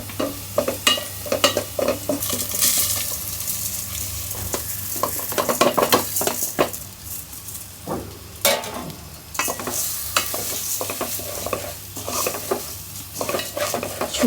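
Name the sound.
rice being fried in a pot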